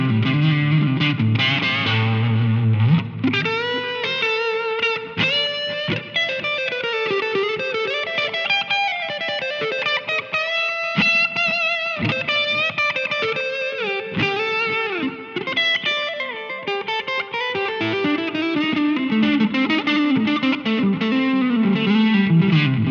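Electric guitar on the neck pickup through a Line 6 Helix with a Timmy overdrive, playing a continuous, close, fairly loud overdriven lead line with chorus-like shimmer and light reverb across the whole stretch, no talking.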